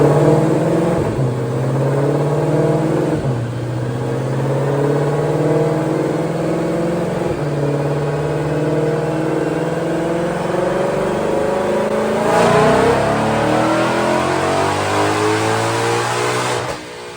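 A stock 2020 Shelby GT500 on a dyno roars through gear pulls, the engine note climbing steadily with brief dips at each shift before one last long rise, loud and close, with no talk.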